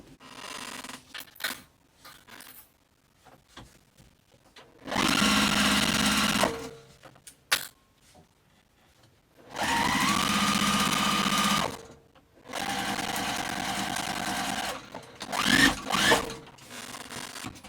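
A sewing machine stitches a tote bag in three steady runs of several seconds each, with quiet pauses and light handling clicks of the fabric between bursts, close and fairly loud.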